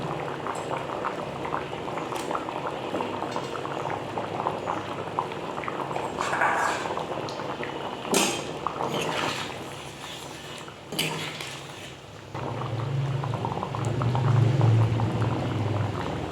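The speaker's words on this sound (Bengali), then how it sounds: "এই যে ঝোল কিন্তু পুরো ফুটে গেছে" Broth for fish curry bubbles at a full boil in a pot, a steady close gurgling and churning with occasional louder pops and splashes, alone and continuous throughout.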